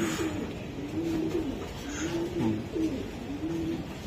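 Racing pigeons in a loft coo close by in repeated rolling, throaty phrases, several calls overlapping against a quiet background.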